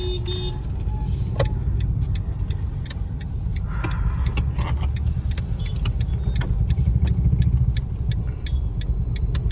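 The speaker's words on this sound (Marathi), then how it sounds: "हांगासर ट्रॅफिक मातशें जाता रोखडें." Steady road traffic with cars passing along a street at night, a continuous low rumble of engines and tyres with occasional brighter clicks and rattles, fairly loud and close throughout.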